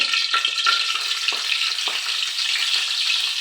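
Cinnamon, cloves and cardamom sizzle loudly in hot coconut oil, a dense steady frying hiss with a few brief crackles, close up and with no voices.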